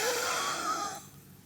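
A person imitates the wheezing, whistling breathlessness of an allergic reaction, with a strained breath and a hissing whistle for about a second before it trails off.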